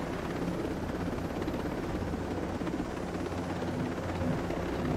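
A helicopter flies in the Ghost Recon Breakpoint video game, its rotor and engine making a constant, close, loud whirring drone with no talk over it.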